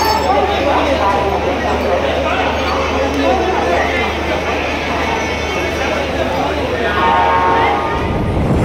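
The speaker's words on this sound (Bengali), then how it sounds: "হাওড়া কাটোয়া লোকাল ঢুকছে 5 নম্বর প্ল্যাটফর্মে" A Howrah–Katwa local train rolls into platform 5 at a busy Indian station, producing a loud, steady rumble and clatter of wagons with a drawn-out horn near the end, while station chatter and voices continue throughout.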